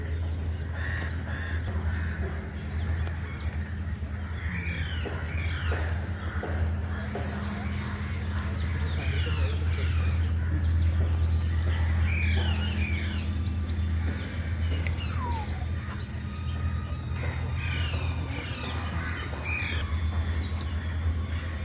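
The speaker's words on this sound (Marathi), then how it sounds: "कावळ्यांचा आवाज चिमण्यांचा आवाज" Birds calling in forest along an elevated nature trail in Mumbai, with crows cawing repeatedly over scattered chirps and squawks from parrots, cuckoos and sparrows, set against a constant low hum.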